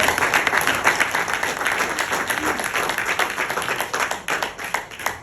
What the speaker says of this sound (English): we can give a big round of applause to our Prime Minister